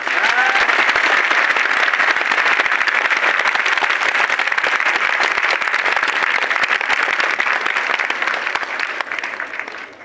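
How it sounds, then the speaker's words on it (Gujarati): Loud, dense applause from a large crowd at a political rally in Gujarat, sustained steadily for about ten seconds before easing slightly at the end. "તો જોરદાર તાળીઓ પર"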